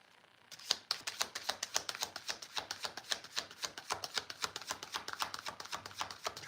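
Tarot cards shuffled by hand, a quick run of crisp riffling snaps and flutters in steady rhythm, close and fairly quiet, after a brief silent start.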